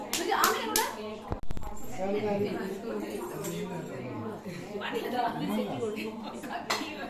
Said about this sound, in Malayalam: ആമി കൈയടിക്ക് ആമി കൈയടിക്ക്